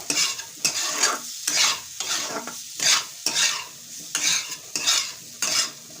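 Grape pickle is stirred in a pan, rhythmic scraping strokes of a spoon about once per second, loud and close over a light sizzle, with no voices.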